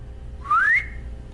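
A person lets out one sharp, rising whistle to call a pet raven named Aslan outside a building, short and clear over a low background hum.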